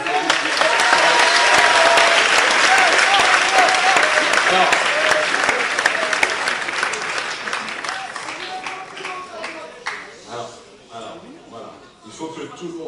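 Audience at a gathering in Brussels applauding, loud sustained clapping mixed with crowd voices that gradually thins out and fades into scattered claps and murmuring toward the end.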